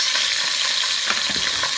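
Tomato paste is stirred in a hot frying pan with garlic and ginger, giving a steady bright sizzle under scraping strokes of a spoon, close and continuous, with no voices.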